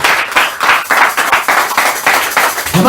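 A church congregation claps together in steady rhythmic bursts, loud and close, with a quick regular beat that holds for several seconds.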